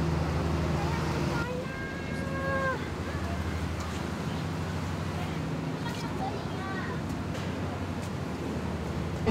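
A tourist cruise boat on the river at Guilin gives a steady low engine drone with wind and water wash, a couple of brief tonal chirps rising above it.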